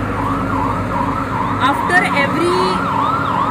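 Two ambulance sirens arriving together at night during a street walk, wailing loudly in a rising and falling pattern over traffic rumble, with people talking briefly over them.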